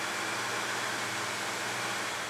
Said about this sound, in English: I'll start by grinding the backside of the blade.